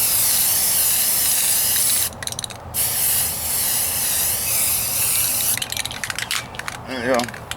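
A second primer coat is sprayed from a can onto the driver's side wheel arch of a 1998 Ford Ranger in warm outdoor weather. Long, loud, continuous hissing bursts are broken by short pauses.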